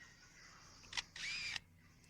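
A lyrebird imitates a camera with a motor drive: one sharp shutter-like click, then a short buzzing whir of rapid-fire frames. It is faint and stands alone against a quiet outdoor hiss.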